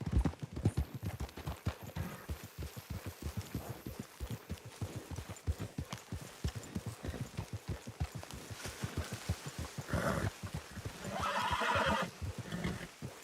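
Horses in the video game Red Dead Redemption 2 trot with a steady, rapid clip-clop of hooves throughout, and near the end a loud whinny rises above the hoofbeats.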